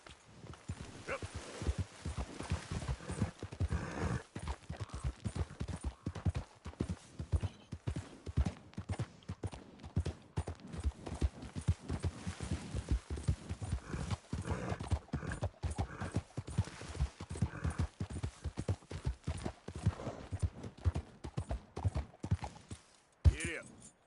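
Horse hooves gallop in Red Dead Redemption 2 with a steady, rapid clip-clop rhythm that runs almost the whole time, close and prominent, with a rider's voice speaking over it now and then.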